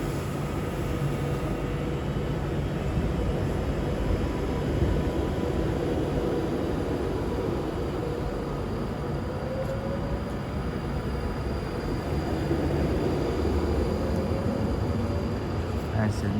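A Class 390 Avanti West Coast train passes through Stafford station on the West Coast Main Line, a sustained rumbling roar with rising whine, steady and fairly loud throughout.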